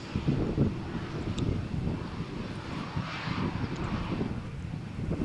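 An EasyJet airliner at stormy Malaga Airport, runway 13, makes a low rumbling engine roar mixed with gusting wind noise on the microphone.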